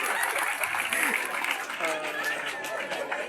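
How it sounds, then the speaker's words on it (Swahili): A church congregation at a mentoring event claps in a loud, busy burst of applause mixed with crowd chatter and a voice over it. "Patia makofi Oljore."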